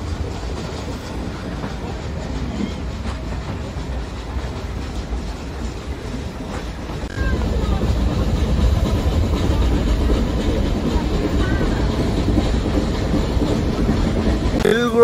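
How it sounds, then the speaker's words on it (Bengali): Nilgiri Mountain toy train rolling along its tracks on the climb toward Ooty, a steady rumble with rhythmic wheel clatter that grows louder and fuller about halfway through, continuous with no voices. "এই হচ্ছে আমাদের নীলগিরি টয় ট্রেন।"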